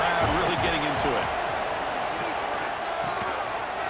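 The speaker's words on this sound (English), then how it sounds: "Third down and the crowd really getting into it." Crowd cheering on third down in a college football video game, Georgia Tech, a dense steady roar under a commentator's voice, with a few thumping hits early on.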